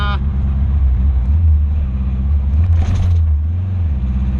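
A Saab sports car with a freshly cleaned and honed clutch slave cylinder drives along the road, its engine giving a steady, loud low rumble with a brief rise in revs partway through.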